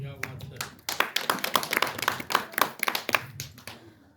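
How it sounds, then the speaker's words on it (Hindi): An audience at a business seminar claps, a quick run of sharp hand claps that swells briefly and then thins out, heard at moderate distance. "ताली क्यों बजा रहे हैं?"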